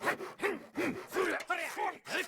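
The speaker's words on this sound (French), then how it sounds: "Si la scie ne vient pas en tirant, inutile de la pousser." Sawing wood with a hand saw in The Legend of Zelda: Breath of the Wild, rhythmic back-and-forth rasping strokes, about eight in quick succession, close and clear with no talk.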